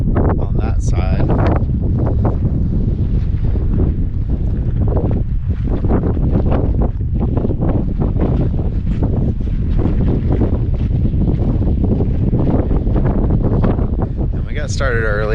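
Wind blows across the floor of Kilauea Iki crater on a cold morning as a loud, constant roar and buffeting against the microphone throughout, with a little voice mixed in.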